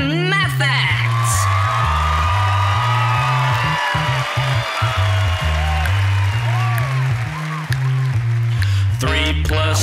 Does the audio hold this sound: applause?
yes